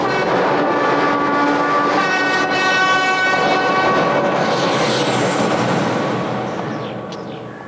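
A train travelling toward Dover rumbles steadily with a loud, continuous rolling drone and a sustained horn-like tone, fading slightly at the end.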